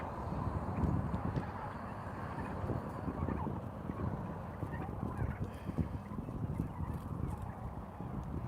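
Turkeys forage along the edge of a plot in cool weather, a flock's soft gobbling and clucking murmuring continuously amid steady outdoor background noise.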